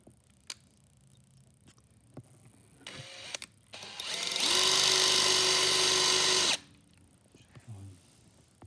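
A power drill whines for about two seconds as it bores small metal pieces out of holes on a John Deere B tractor, with faint clicks and handling noises around it and no talk.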